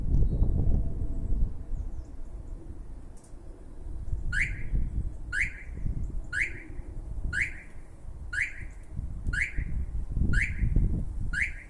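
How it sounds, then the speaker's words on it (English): A StarLine E96 alarm fitted to a Ford Transit van sounds a repeating electronic chirp, about eight regular pulses roughly a second apart, over a steady low rumble of background noise. "And then you'll see it'll trigger, but the van will not start."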